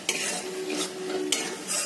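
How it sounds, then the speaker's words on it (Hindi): Onions for shahi paneer sizzle in a hot pan while a utensil stirs and scrapes against the metal in short strokes, close and fairly loud. "मेरा प्याज कितना दूर फ्राई हुआ है"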